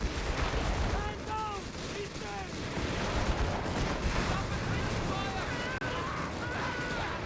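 Dense battlefield gunfire with heavy machine gun bursts and scattered shots in the WWII strategy game Company of Heroes 3, in a 1v1 match, running steadily under continuous commentary.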